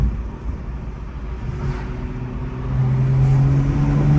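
A rebuilt BMW M2 engine drones from inside the car while driving in Sport Plus mode, a steady low hum that swells louder as the revs climb near the end.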